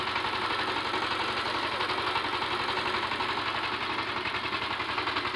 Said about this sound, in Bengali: আপনারা দেখতে পাচ্ছেন পাওয়ার টিলার মাউন্টেড ট্রেঞ্চার দিয়ে কিভাবে ট্রেঞ্চ হচ্ছে।